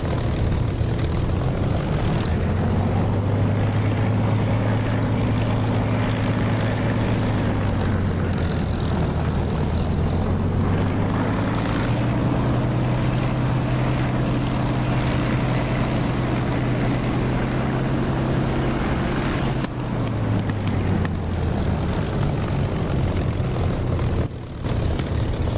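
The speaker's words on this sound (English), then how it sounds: "I'm going to shut the engine down" A propeller aircraft engine runs in the DCS flight simulator, a loud continuous droning hum whose pitch rises and falls as the throttle changes, steady and alone without talk.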